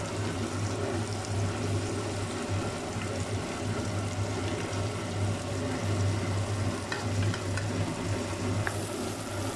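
Raw banana kola balls deep-frying in hot oil, a dense, steady sizzle and bubbling hiss that stays close and continuous throughout with no talk.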